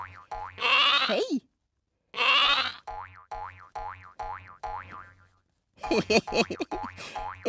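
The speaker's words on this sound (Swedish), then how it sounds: "Ett lamm!" A cartoon lamb in a Swedish children's Christmas calendar show gives two wavering, high bleats. Springy boing-like cartoon effects follow, then a busy jumble of playful sounds, with no talking.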